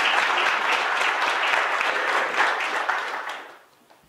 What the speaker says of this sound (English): Give your hands a round of applause.